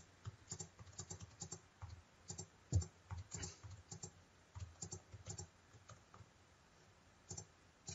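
Typing on a computer keyboard to enter values into a radar graph tool: a steady run of soft, close key clicks in uneven bursts with short pauses, one sharper tap near the middle, and no talking.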